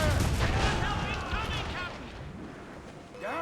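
Ship cannons fire during a naval battle in the video game Assassin's Creed Rogue, a loud opening volley of booms that rumbles off into battle noise, with voices shouting over it.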